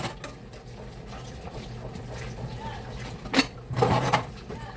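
Dishes washed in a small sink, with soft clinks of plates and cutlery and light water patter throughout, plus a couple of louder clattering knocks near the end, close by under faint background sound.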